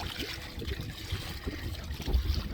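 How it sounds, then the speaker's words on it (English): Rough ocean waves wash and slosh over the stern of a small boat reversing straight into them, a continuous near churning of water with low rumbling surges and no talk. "Now these waves are big enough, if I'm going backwards straight into them,"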